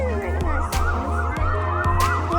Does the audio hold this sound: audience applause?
no